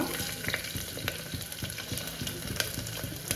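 Onion sizzling in hot oil in a pan while khichdi is cooked at home, a steady fry crackle with light stirring taps, close and fairly quiet, with no talking.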